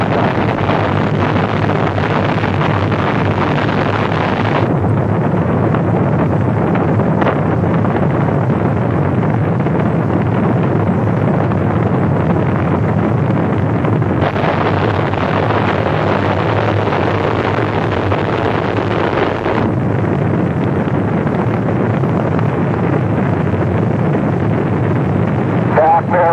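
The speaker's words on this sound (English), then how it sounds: "We have main engine start." Space shuttle Columbia's main engines ignite at launch, a loud sustained roar with steady broadband rumble across the whole span, shifting in intensity partway through.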